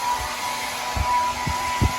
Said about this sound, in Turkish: Saç kurutma makinesiyle fön çekiyoruz